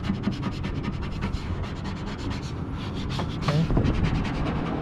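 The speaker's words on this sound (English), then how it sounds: "Make sure we rub it pretty good," A decal is pressed and rubbed firmly onto a surface: a steady, close, dry scrubbing with rapid back-and-forth strokes lasting about five seconds, with a faint voice briefly in the background.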